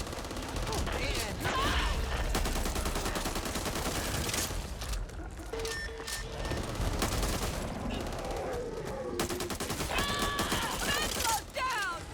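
Dense gunfire in the zombie shooter Back 4 Blood on Nightmare mode, rapid bursts of automatic shots and single cracks layered with game effects, while players shout over the action.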